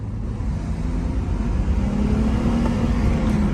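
BMW 328i xDrive car accelerating, a steady close engine drone from inside the cabin with a rising tone toward the end, no talking.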